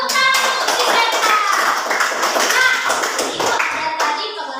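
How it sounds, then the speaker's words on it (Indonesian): Brief classroom clapping from pupils for a classmate, a quick burst of hand claps with children's voices and chatter mixed in, fairly close and loud. "Tepuk tangan untuk si Senta"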